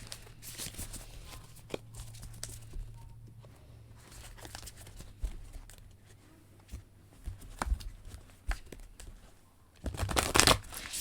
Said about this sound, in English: I am not going to look at these cards while I shuffle.